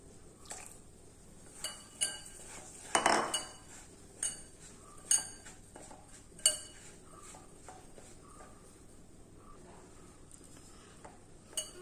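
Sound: kneading puttu flour with salt and coconut milk in a bowl

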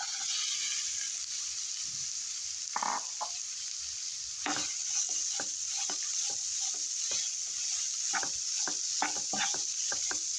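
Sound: onions sautéing and being stirred in a pan

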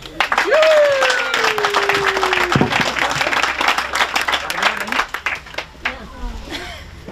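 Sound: applause for the team at an opening

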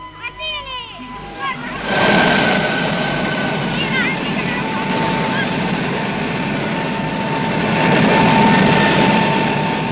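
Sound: Fiat G.91 jet engine roaring on test bench

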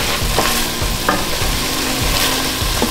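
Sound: ground meat frying and being stirred for Bolognese sauce

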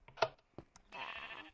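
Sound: sheep bleating in the video game Minecraft

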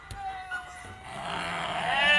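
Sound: baby sheep bleating on a farm

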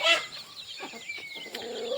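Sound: native naati chickens clucking

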